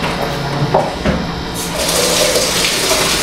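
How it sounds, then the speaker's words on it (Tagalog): Water is poured into a container at home, a loud close splashing that swells into a steady rushing fill after a few light knocks. "Lagyan na natin ng tubig."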